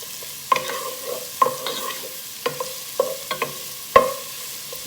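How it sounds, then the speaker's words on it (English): Chopped garlic cooks in a pan with a soft, steady sizzle, broken by scattered sharp clinks and scrapes of a utensil stirring against the pan, close by with no talking. "chopped garlic. And then I will cook it until it gets frothy."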